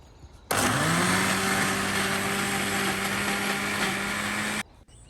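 A kitchen mixer grinder whirs loudly for about four seconds, grinding a spice paste with water for Goan ambot tik, starting and stopping abruptly, close by, no voices.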